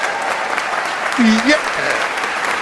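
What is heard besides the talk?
applause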